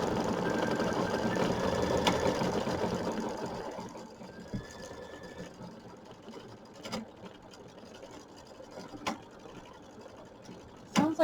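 An embroidery sewing machine stitches a decorative stitch in red thread, running loudly with rapid rhythmic whirring for about four seconds before dropping away to quieter scattered clicks and knocks.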